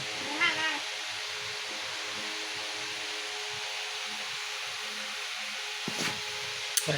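A cat gives a brief, faint meow at the start, then a quiet hiss runs on under a steady background.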